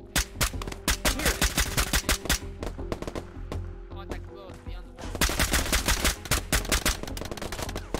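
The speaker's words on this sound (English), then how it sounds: "Taking shots from the buildings at northeast." Rapid bursts of automatic gunfire and single shots in the video game Operation: Harsh Doorstop crack close and loud in dense strings, with a brief lull around the fourth second before heavy firing resumes.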